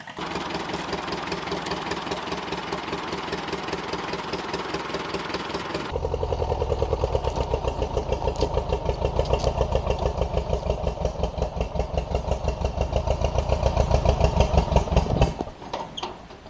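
A small log-hauling tractor engine runs steadily with a rough, pulsing idle, its tone shifting lower and louder partway through, then cutting off near the end; no one speaks.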